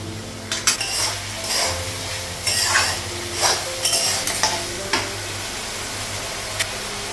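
Metal lid clanks down onto a cooking pot after the gas is turned off, several close clinks and scrapes of cookware over a low steady hum, no talking.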